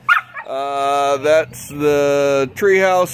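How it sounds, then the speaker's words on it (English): A dog nearby gives three drawn-out, whining bark-howls, each a sustained cry with short gaps between them. The dog is loud and alone, with no speech over it. "That's the dog."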